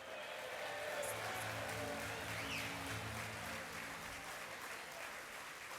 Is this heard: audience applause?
yes